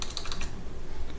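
Quick bursts of keystrokes on a computer keyboard while entering a name in Revit software, a short run of light clicks followed by a pause and a lone final tap, close and quiet.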